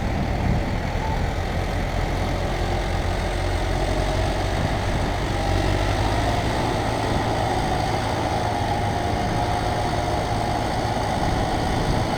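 A tractor engine runs steadily during silage harvesting with Case and Fendt machines, a loud continuous low rumble with no pauses, heard close and alone with no talk.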